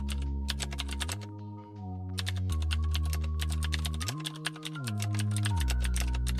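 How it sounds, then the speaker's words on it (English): Fast, close computer keyboard typing while entering HTML, CSS and JavaScript code, a dense run of crisp key clicks with brief pauses, over a steady background music bed. "As I type this out"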